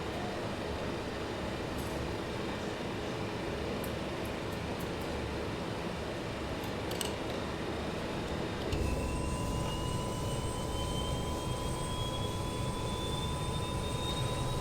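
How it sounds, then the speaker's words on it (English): Avro RJ jet engines start in a flight simulator: a steady broadband roar runs alone, then a thin whine rises slowly in pitch as an engine spools up. "Let's go ahead and start the engines."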